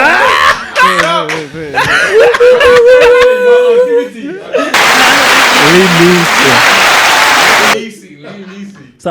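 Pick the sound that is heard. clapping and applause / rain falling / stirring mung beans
clapping and applause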